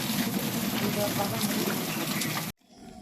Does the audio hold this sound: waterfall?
yes